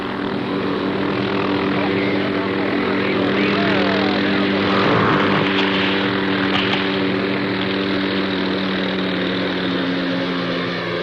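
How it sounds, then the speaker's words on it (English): Helicopter hired in Caracas lifting gear onto a jungle mountain: a loud, steady rotor and engine drone with a strong, even pulsing hum that runs unbroken throughout. "A helicopter is hired in Caracas and flown in the 300 miles to lift the gear onto the mountain."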